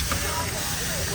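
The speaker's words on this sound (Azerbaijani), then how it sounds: "mən də bu böyük steakimi qızardıram" A big steak sizzles as it fries on a barbecue grill, a steady, close hiss with voices talking over it.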